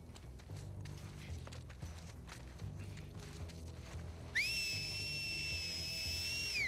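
Clear melodic whistling from the video game The Last of Us Part II rises in over low background rumble and light footsteps, held as a steady two-toned whistle for the last couple of seconds.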